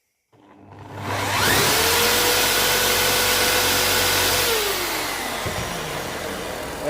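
A Perkins 236 petrol engine on a Conveyancer TC6 forklift is run up during maintenance, climbing quickly from silence to a loud, steady, high-pitched roar with a whining tone that holds and then slowly eases back.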